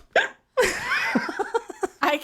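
A woman hiccups repeatedly in a rapid, uneven series of sharp gulping bursts, heard close and loud, separated by brief quiet gaps, with laughter-like vocal sounds mixed in.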